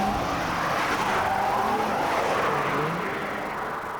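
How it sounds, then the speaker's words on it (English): A car engine roars steadily at high revs, a loud continuous drone with a hint of tire noise and no speech. "Engine sounds quite fruity."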